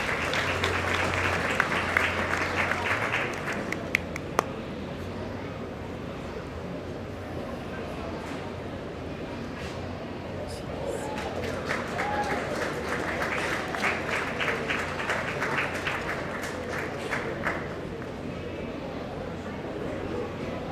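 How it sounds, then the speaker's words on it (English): An audience at a meat goat show applauds in steady, sustained clapping that swells and fades over about twenty seconds, with a few louder claps early on and a diffuse indoor crowd sound. "Let's give those four a round of applause."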